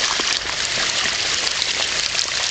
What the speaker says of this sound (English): We'll get closer so you can hear it rushing by.